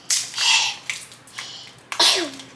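A series of short, sharp sneezes, three or four bursts spaced irregularly, close and fairly loud, with a final strong sneeze ending in a voiced tail.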